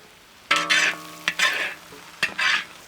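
Cabbage, soya and capsicum sauteed on high flame give sharp bursts of sizzling, three distinct stirs each flaring into loud frying hiss before settling.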